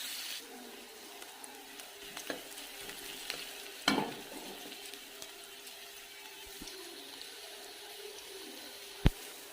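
Onions fry in a pan while being stirred, giving a faint, steady sizzle with scattered scraping clanks, one sharper knock near the middle and another near the end.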